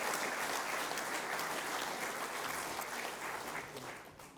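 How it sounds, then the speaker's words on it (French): A general-assembly crowd of farmers' union members claps, a dense, even applause from a large room held at steady strength and thinning slightly toward the end, heard at a distance and fairly faint. "je pense que vous pouvez aussi vous applaudir"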